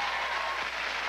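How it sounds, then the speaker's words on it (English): Audience applause at a Papermill Playhouse theater event, a steady, dense wash of many hands clapping close by, filling the whole moment without a break. "Let's give a round of applause"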